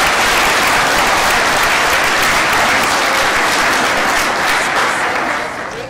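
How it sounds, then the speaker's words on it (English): A large crowd at a commencement ceremony applauds the certificate graduates, a loud, continuous wash of clapping that holds steady and eases slightly near the end. "If we would like to give them a round of applause"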